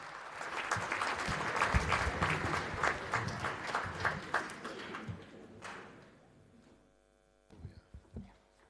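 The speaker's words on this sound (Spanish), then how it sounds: "Lo recibimos con un aplauso" Crowd applause at a university anniversary academic ceremony claps steadily for several seconds, then fades out, leaving a low hum and a few faint knocks near the end.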